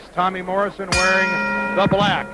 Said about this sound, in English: The bell sounds and away we go here.